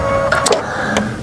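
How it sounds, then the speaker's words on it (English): An embroidery machine's automatic needle threader gives a brief burst of quick mechanical clicks and a short whirring motor sound, close and fairly loud, over a low background hum. "this machine has a really lovely needle threader, which I love so much. All I have to do is do that and then go like this, and it threads that needle for me"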